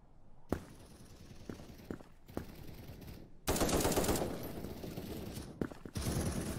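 Rapid automatic gunfire from the Krunker shooter game, sharp bursts of shots with brief pauses between volleys, loud and close, growing denser toward the end.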